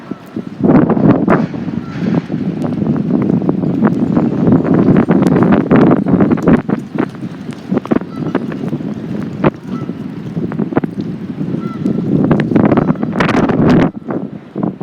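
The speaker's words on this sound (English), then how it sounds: "This wind needs to calm down." Strong wind buffeting a microphone beside a river, a loud continuous low rumble with gusty surges and crackling bursts throughout, no voices.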